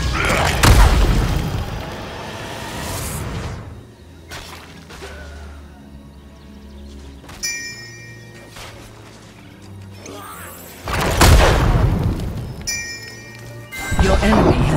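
Heavy booming explosions and crashing impacts as a fort is destroyed in the video game Heroes of the Storm, loud bursts at the start and end with game effects and music-like tones in between.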